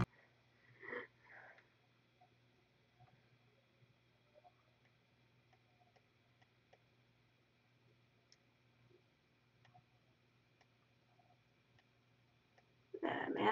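One short, close nasal sniff near the start, followed by a long, quiet stretch of low hum and faint scattered ticks, then a louder burst of noise at the very end.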